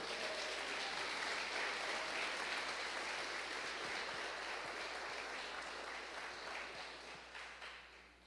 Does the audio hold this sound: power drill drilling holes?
no